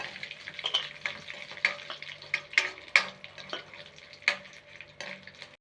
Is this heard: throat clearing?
no